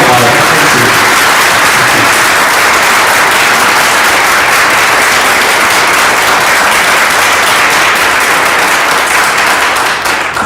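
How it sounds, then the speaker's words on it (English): Sustained applause from a church audience at a faith study gathering, dense and steady clapping filling the room loudly from start to finish with no pauses. "You always get applause."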